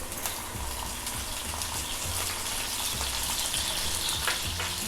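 Squid rings with garlic fry in a pan, giving a steady, close sizzle and crackle with low bubbling underneath and no talking.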